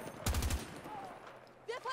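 Gunfire from a weapon in Battlefield 2042, one short loud burst of rapid shots early on, followed by quieter game noise and a faint fizzing tail.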